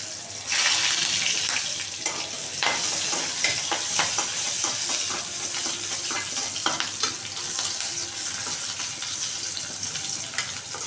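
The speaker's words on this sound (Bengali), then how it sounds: "এই যে রসুন, পেঁয়াজ আর এই যে গুঁড়া চিংড়ি নিয়ে নিছি, এটা দিয়ে শাক ভাজি করবো" Garlic, onion and dried ground shrimp hit hot oil for a greens stir-fry and burst into a loud, close sizzle. The sizzle carries on under scraping and clinking strokes as the pan is stirred.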